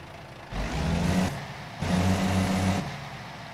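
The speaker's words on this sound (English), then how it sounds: "So let's see what it sounds like it starts." A Volvo truck engine in a driving video game starts up, rumbling for under a second, cutting out briefly, then starting again with a steady idle drone before fading, with no one talking.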